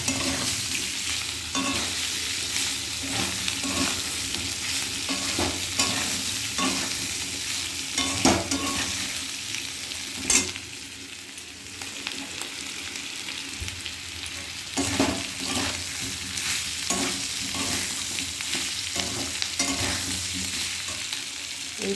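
Potatoes frying in a pan with spice paste, a steady close sizzle broken by regular scrape-and-stir strokes, no voices over it.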